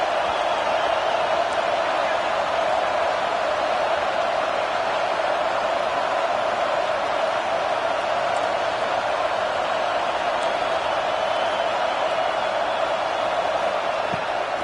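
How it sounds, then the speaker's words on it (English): Stadium crowd at a Georgia v. Alabama college football game, a dense, steady roar of thousands of spectators filling the whole stretch, loud and continuous with faint whoops rising out of the wash. "Listen to the crowd energy here in the early going."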